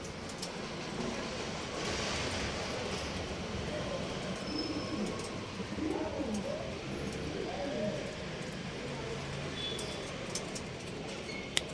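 Pigeons coo softly in a loft among birds kept for sale, with low, rolling calls repeating over a steady background hum and a few faint higher chirps.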